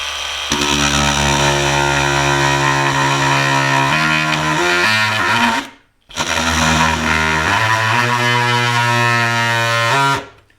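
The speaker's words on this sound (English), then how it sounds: "Once it starts to cut into the wood like that, it'll become stable." A variable-speed power saw plunge-cuts a hole into wood, a loud sustained motor whine with steady harmonic drone that briefly cuts out near six seconds, then restarts and runs again before stopping.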